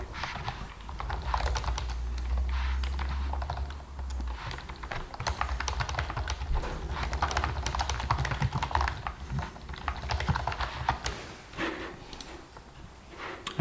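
Someone types on a computer keyboard, a steady run of quick, close, fairly quiet key taps with brief pauses, alone without talk.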